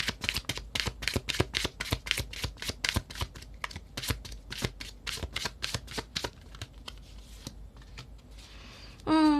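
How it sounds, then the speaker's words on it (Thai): Tarot cards being shuffled and drawn produce a steady rapid run of crisp riffling snaps, close and fairly loud, that thins out near the end before a brief burst of other noise. "เดี๋ยวแม่หมอจะเปิดไพ่อีกใบหนึ่งให้เป็นคำแนะนำนะคะ"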